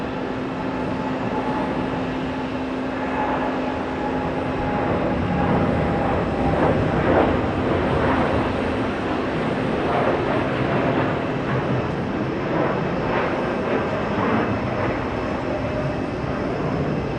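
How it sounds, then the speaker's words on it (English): Uzbekistan Airways Boeing 787 Dreamliner departing JFK for Tashkent, a moderate, steady jet engine rumble with a faint whine, heard from a distance with no talk. "That's the Dreamliner."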